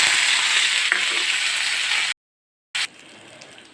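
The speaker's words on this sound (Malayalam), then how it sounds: "കടുക് പൊട്ടി കഴിയുന്ന ഒരു അഞ്ചാറ് ചുമന്നുള്ളി കുറച്ച് വേപ്പിലയും കൂടി ഇട്ട് പൊട്ടിച്ച് താളിച്ച് ഒഴിക്കുകയാണ്" Mustard seeds, shallots and curry leaves fry in hot oil for a tempering, making a loud, dense, continuous sizzle close by that cuts out abruptly, then returns briefly.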